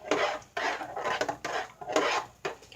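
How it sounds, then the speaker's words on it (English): A spoon scrapes and stirs thick gravy in a pot in steady rhythmic strokes, each pass a rasping scrape with brief gaps between, close and clear with no voices. "And I stir and mix this in"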